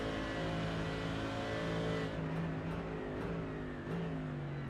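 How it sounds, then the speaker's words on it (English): Mercedes AMG GT3 race car engine at full throttle in a racing sim game, a steady rising multi-toned roar with quick upshift dips, continuous and fairly quiet, with no talking. "Mercedes AMG GT3 as we go full throttle"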